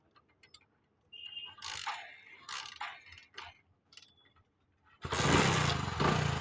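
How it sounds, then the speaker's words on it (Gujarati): A motorcycle with a freshly adjusted carburettor air screw gives several short mechanical clatters and bursts up close, then its engine catches and runs loudly and steadily at the end. "તો આપણે બાઇક ચાલુ કરી દીધું છે"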